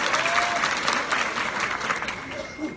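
Loud, sustained applause from a crowd gathered at a small outdoor political street-corner meeting in a village, continuous clapping with voices and crowd murmur underneath.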